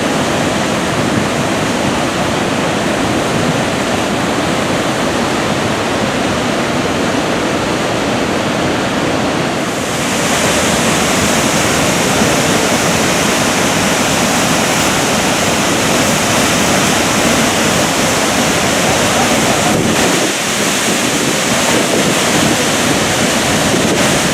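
The roar of Niagara Falls: a loud, unbroken broadband rush of falling water, with wind buffeting the microphone and growing slightly louder partway through.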